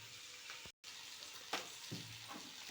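Chicken sautéing with pepper powder in a home kitchen pan, a soft, continuous sizzle and fry with a few light scrapes and stirring clinks, fairly quiet and close.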